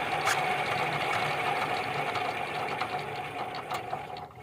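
A diesel power tiller or mini tractor engine struggling to start gives a loud, continuous rattling chug. Steady knocking runs throughout, with a few sharper bursts standing out, and no voices.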